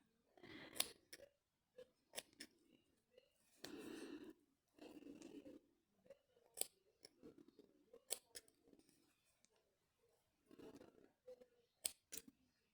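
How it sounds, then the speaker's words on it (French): Small scissors snipping thread inside a handmade felt cactus, a series of quiet, close, crisp snips and rustles separated by short silences. "je vais couper mon fil à l'intérieur"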